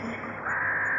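A crow caws as a radio drama sound effect: one sustained, harsh, close call rising out of a faint background hum.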